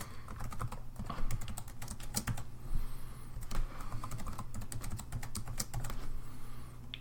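Password being entered on a computer keyboard, heard as quick, uneven runs of close, crisp key clicks with brief pauses, steady throughout and without speech.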